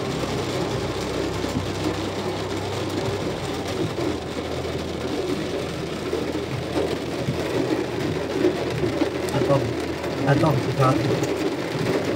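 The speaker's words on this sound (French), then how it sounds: "c'est la forte pluie, ouais. La petite averse diluvienne qui passe sur nous." Heavy downpour from a passing thunderstorm in western France, a dense, steady roar of rain drumming on surfaces with scattered drips, while people talk nearby.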